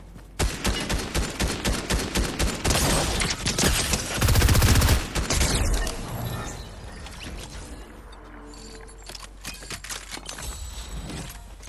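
Rapid bursts of video game gunfire crackle loudly in a battle royale match, repeated rhythmic volleys followed by scattered quieter shots.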